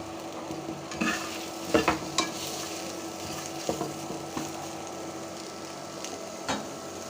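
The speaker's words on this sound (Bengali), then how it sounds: "এখন বেশি করে পেঁয়াজ রসুন দিয়ে দিলাম" Onion, garlic and dried chili fry in a pan for a rustic Bangladeshi bamboo-leaf dried-fish mash, a low steady sizzle broken by several sharp spatula scrapes and knocks, close and fairly quiet.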